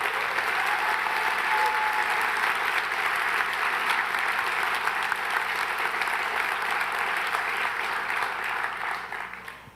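Sustained audience applause for an event crew fills the room, a dense steady wash of clapping at close-to-mid range that holds for about nine seconds before easing off slightly at the end.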